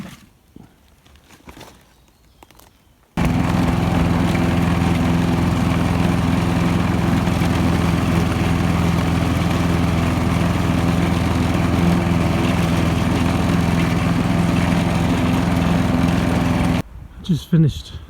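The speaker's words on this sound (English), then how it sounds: "Just finished the first mow of the year." A lawn mower makes the first mow of the year on a Latvian homestead, its engine droning loud and steady close by for about fourteen seconds after a quieter start, then cutting off abruptly.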